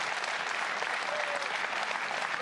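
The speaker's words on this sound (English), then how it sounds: "I think an applause is in order." A crowd at a League of Legends esports match applauds after SK Gaming's win, a continuous, uniform roar of clapping at steady volume with no gaps.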